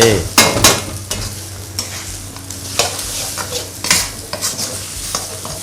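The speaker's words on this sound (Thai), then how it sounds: "เอาละ เราผัดอย่างนี้ ให้เขาสุกสักหน่อยนะครับ" Colubrina asiatica is stir-fried with shrimp and egg in a wok: loud, close metal spatula scrapes and clanks strike repeatedly in an uneven rhythm over a continuous oily sizzle.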